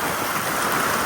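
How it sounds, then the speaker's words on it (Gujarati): Steady rain falls in a forest in Gir, a dense, even hiss of drops close around with no voices. "વરસાદ શરૂ થઈ ગયો"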